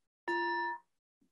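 A single bell struck once, ringing out with a clear sustained tone that fades over about half a second, followed by a faint soft knock.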